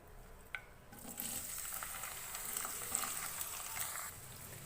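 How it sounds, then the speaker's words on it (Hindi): Two medium onions, chopped, drop into hot oil after a small clink and burst into a steady, close sizzle that keeps frying evenly for several seconds. "ऑयल गर्म हो गया है, अब हम इसके अंदर प्याज ऐड करेंगे।"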